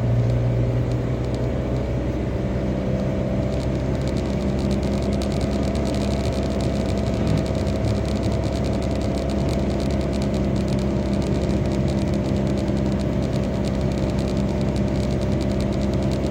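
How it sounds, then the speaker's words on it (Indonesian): Diesel car driving on a winding mountain road, engine droning steadily throughout with a low rumble and tonal hum, constant level, heard from inside the cabin without talk. "Nah ini yang saya bawa ini mobil solar ya teman-teman, mobil diesel, jadi torsinya lebih besar daripada mobil bensin"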